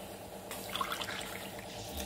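Water poured by the cupful into a pot while preparing pongal: a soft, faint splash and trickle that swells briefly in the middle, heard alone and quietly.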